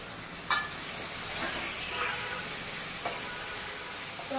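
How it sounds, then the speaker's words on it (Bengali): Potatoes crisping in hot oil in a pan give a steady, moderate hiss and sizzle, broken by a few brief sharper crackles, with no talk. "এবার আমি আলুটাকে ভালো করে মুড়মুড়ে করে ভেজে নেব"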